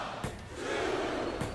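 Crowd noise from a WWE wrestling video game, a Retro Battle match between the Undertaker and Kane, swells into a loud, steady roar of cheering fans that sounds close and fills the short moment without speech.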